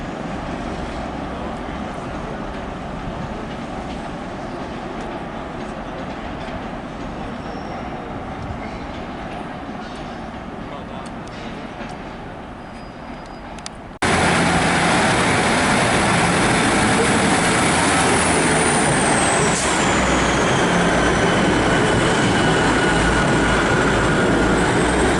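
HST power car 43316 passes at Newcastle on the East Coast Main Line, hauling a delayed Edinburgh to London King's Cross service. A steady rail rumble surges much louder partway through and ends with a fading high whine.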